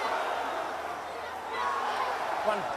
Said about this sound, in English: The crowd love him. Listen to them.